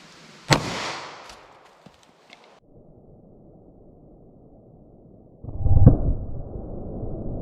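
A Winchester Defender .40 S&W round is fired into ballistics gel, one sharp gunshot crack followed by fading echo and faint rustling, then a second dull thump a few seconds later.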